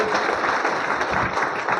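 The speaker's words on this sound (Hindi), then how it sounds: "जोरदार एक ताली होना चाहिए" Applause breaks out for Firoz Alam Khan at a gathering, a dense, steady patter of many hands clapping together for about two seconds with no voices over it.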